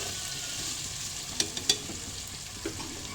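Cut potatoes stirred in a frying pan for an aloo tomato curry, a soft steady sizzle with a few sharp scraping clicks of the spoon against the pan.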